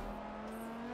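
A Porsche race car in Forza Motorsport 7 holding a steady, loud engine drone under acceleration, one unbroken tone with no talk over it.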